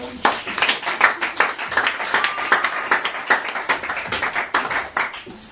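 A church congregation claps in rhythmic unison during a Sunday service, a brisk steady beat of hand claps with a few louder accents, close and lively throughout.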